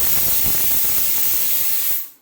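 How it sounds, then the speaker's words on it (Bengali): A pressure cooker with chicken stew soup lets out a loud, continuous steam hiss that cuts off sharply after about two seconds. "দেখো সিটি করছে এখানে।"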